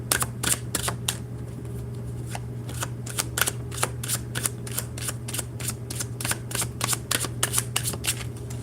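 Tarot cards are shuffled by hand in a series of crisp, quick riffles and flicks spaced irregularly, close and clear over a low steady hum, with no talking.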